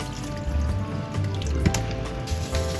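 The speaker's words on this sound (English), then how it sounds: "First, wash and soak the chicken wings in salt water." Chicken wings are washed and soaked in salt water, with steady running water and drips splashing in a bowl or sink, close and fairly quiet, with no talk.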